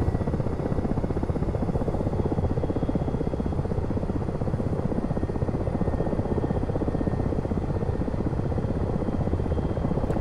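A Ka-50 helicopter in a flight simulator game drones loudly and continuously, a steady dense rotor and engine roar that holds unchanged throughout with no talking.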